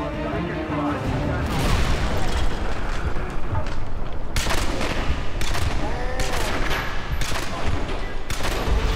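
Upgraded M249 machine gun firing in Call of Duty: Modern Warfare 2 (2009), loud sustained bursts with booming impacts layered over talk and battle noise.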